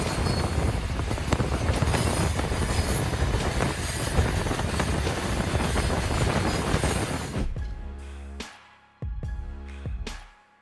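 A runaway train car rolls along the rails, a loud, steady rumble with rattling that carries on for several seconds, then cuts out abruptly and returns in a few short bursts near the end.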